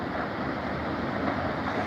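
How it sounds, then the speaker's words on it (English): Water rushing down the Oroville Dam spillway, heard as a constant broad roar with a windy, surf-like texture and no distinct events. "Why the water comes down in waves like that."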